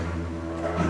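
Didgeridoo played to imitate a hopping kangaroo, a short, loud, buzzing drone with a slight swell and shifting overtones near its end.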